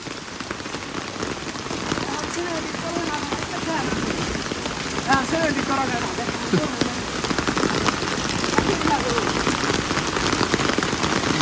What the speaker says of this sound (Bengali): গ্রামের একটু বৃষ্টি উপভোগ করেন।